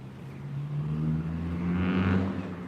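A car engine hums low and steady, then swells louder as the vehicle turns and passes close by.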